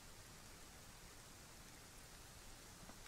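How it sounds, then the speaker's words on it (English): Heavy, steady rain in the game Rust, a constant dense hiss of falling water with no pauses or voices. "Oh wow, that's a lot of rain."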